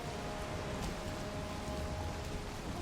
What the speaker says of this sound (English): Okay, we have rain now,